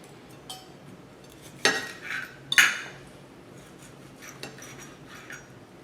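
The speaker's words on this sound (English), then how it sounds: "We're going to cut this steak off the bone." Knife cutting a cooked steak off the bone on a board, with a few short scraping and clinking strokes, two louder ones standing out against a quiet room.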